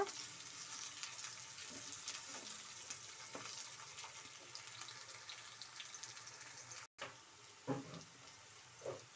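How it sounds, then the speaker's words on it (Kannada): Raw plantain slices sizzle and crackle steadily in hot oil, a soft, close frying hiss with a few light stirring clinks and a brief dropout. "ಎಣ್ಣೆಯಲ್ಲೇ ಈ ಥರ ಬಾಳೆಕಾಯಿನೆಲ್ಲ ಫ್ರೈ ಮಾಡ್ಕೊಬೇಕು"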